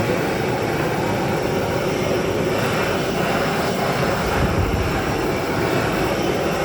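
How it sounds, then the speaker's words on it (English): A blowtorch sears cooked fish with a loud, continuous roaring hiss of flame, steady and close throughout, with no talk. "Now we just torch it down."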